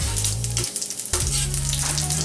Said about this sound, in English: pretty hot oil. Next we'll put cumin seeds.